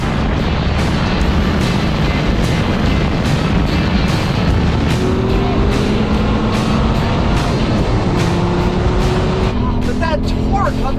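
A Dodge Viper and a Chevy Corvette ZR-1 roaring loudly in a drag race, a continuous heavy engine drone with rising gear pulls, close and dense, while excited voices shout over it.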